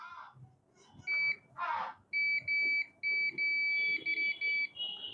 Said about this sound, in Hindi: हाँ, इसलिए बीप कर रहा है।